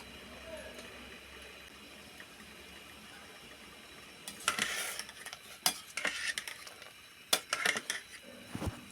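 Half-boiled cauliflower pieces being stirred in a pot of water, quiet at first, then a run of sharp clinks and splashy scrapes from a utensil against the pot in the second half, with a voice faintly present.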